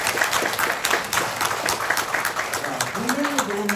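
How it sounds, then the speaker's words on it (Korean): An audience at a New Year special lecture in Jeju applauds in a dense, steady clatter of many hands, and a voice starts talking over it near the end. "박수 한번 보내주시기 바랍니다."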